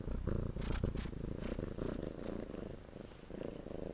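Close, steady purring from Titi the cat, a low rhythmic rumble broken by a few brief rustling brushes, heard alone without any voice.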